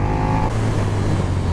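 A 2020 KTM Super Duke R motorcycle roars steadily with the front wheel lifted in a wheelie, its engine drone loud and close throughout the short stretch of riding.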